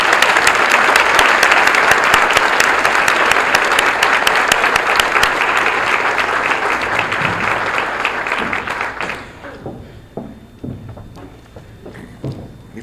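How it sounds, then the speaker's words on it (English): An audience at a college honors recognition banquet gives sustained, loud applause that thins out and fades to a few scattered claps near the end. "Let's give them a round of applause."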